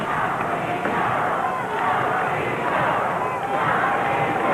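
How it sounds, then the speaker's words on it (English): A wrestling arena crowd at a 1982 Memphis match roars steadily and loudly throughout, a dense, unbroken wall of cheering with no quiet moments. "Crowd getting in behind Steve Kern"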